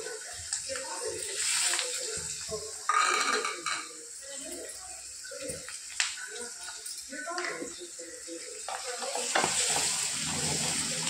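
Chopped garlic and onions fry in a pan, a soft steady sizzle with occasional stirring scrapes, while someone talks over the cooking.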